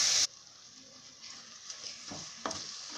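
Tomatoes with chilli, garlic and fennel sautéing in a pan: a steady low sizzle with a few scrapes of stirring, close and fairly quiet.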